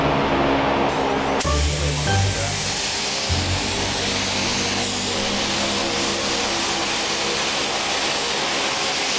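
Spray gun laying clear coat onto a car part in a home garage, a loud steady hiss running nearly the whole time with a short gap near the start.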